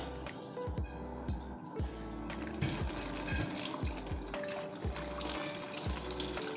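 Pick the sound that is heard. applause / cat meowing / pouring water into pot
pouring water into pot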